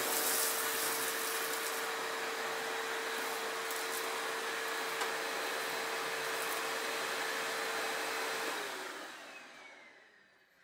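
A Patriot hybrid vacuum cleaner with its power head runs loud and steady close by, a constant whirring roar with a high tonal whine while picking up flour and debris, then winds down and fades at the end.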